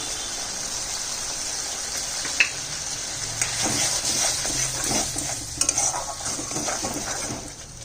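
Mustard paste being stirred into fish masala frying in a pan, a steady sizzle with scraping spoon strokes and a few sharp clinks against the metal.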